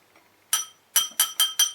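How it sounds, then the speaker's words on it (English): A metal key tapped against the side of a drinking glass during a close-up magic trick, giving four bright, ringing clinks in quick succession after one earlier tap, clear and alone with no talk. "Grab a key, right, just tap it on the side of the glass."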